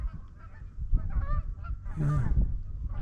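Geese at a cove in Spokane, Washington honk repeatedly from a middle distance, overlapping calls rising to a louder cluster near the end over faint outdoor rumble, with a brief spoken word.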